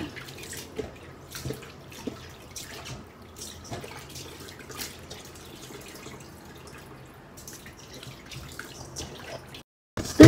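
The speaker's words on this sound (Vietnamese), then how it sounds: "Rửa thật sạch nha, để cho nó giảm đi cái độ mặn của nó." Salted tien vua vegetables are rinsed in water, with soft intermittent splashes and drips close by at a low level, then a brief silence and a sudden louder splash at the end.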